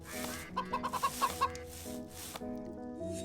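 Chickens cluck in a short rapid run of about eight notes in the Stonehearth colony-building game, heard fairly quietly over a soft game music background.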